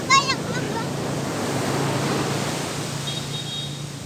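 Broad, steady wash of surf noise, waves rolling continuously, with a brief high chirp near the start and a faint tone later.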